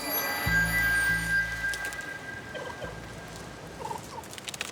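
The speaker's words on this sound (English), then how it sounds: "spots one of the island's wild turkeys" A wild turkey gobbles on a remote survival island, a few brief, bubbling calls heard at a moderate distance among outdoor rustling and low background noise.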